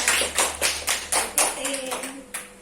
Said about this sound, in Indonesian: Terima kasih, saya tepuk tangan